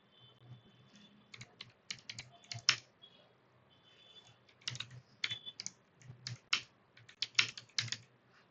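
Irregular bursts of computer keyboard typing, clattering keys pressed in quick clusters with short pauses between, close by and alone.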